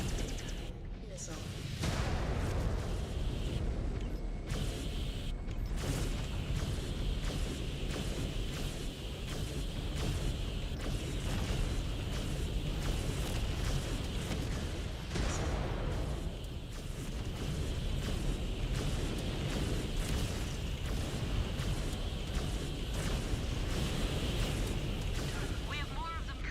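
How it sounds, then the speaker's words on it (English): Missile explosions and heavy weapon blasts in the MechWarrior Clans video game form a dense, continuous barrage of booms and impacts lasting throughout, with an in-game voice speaking over the combat. "Incoming missile. Target destroyed."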